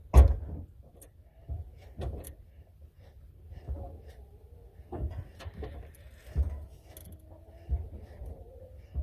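A 1994 Ford F150 brake pedal being pumped repeatedly, giving soft mechanical creaks and clunks at irregular intervals over a low rumble, fairly faint and close, with no talking.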